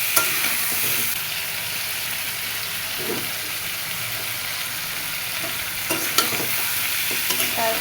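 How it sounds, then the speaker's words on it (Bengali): Chicken pieces frying with onions in a pan: a loud, continuous close sizzle with occasional scraping stirs and spatula knocks throughout. "পেঁয়াজের সাথে ভাত মাংসগুলো ভেজে নেব"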